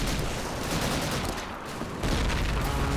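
Heavy gunfire in the World War II shooter Call of Duty 2, a dense, loud rattle of rifle and machine-gun shots with booming blasts, close and continuous throughout.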